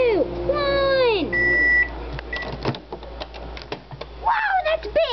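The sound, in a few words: microwave oven finishing and beeping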